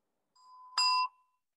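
A single bell strikes once with a clear ringing tone, preceded by a soft lead-in and fading over about half a second, heard alone in a quiet room during a meditation session.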